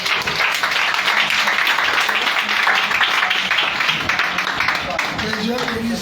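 Church congregation at a family prayer gathering in Port-Bouët applauding and cheering for Jesus, a continuous wash of clapping beneath a speaking voice.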